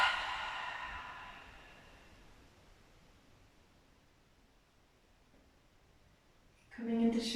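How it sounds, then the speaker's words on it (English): A deep exhale pushed out through the mouth at the end of a yoga flow, a soft breathy rush that fades into near silence, followed by a brief rustle. "Take one more deep, deep inhale into your nose. And out of your mouth, exhale."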